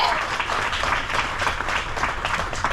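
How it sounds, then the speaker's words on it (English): An audience aboard the cruise ship Enchanted Princess applauds with a steady, full round of clapping, fairly close and continuous, with a low rumble of room noise beneath it. "How about a round of applause for Amy?"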